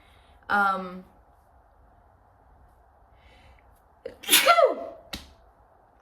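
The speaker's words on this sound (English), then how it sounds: "Confirmation sneeze." A single loud, close sneeze rings out with a sharp burst and falling tail, preceded by a brief voiced sound, then a quick click after quiet.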